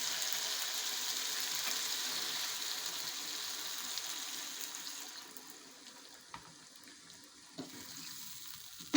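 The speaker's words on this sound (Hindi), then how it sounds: "अब इसमें हम पानी डाल देते हैं।" Water poured into a pan of potatoes frying in spices for an aloo shorba curry, a soft rushing pour and sizzle that gradually quiets, with a few small clinks near the end.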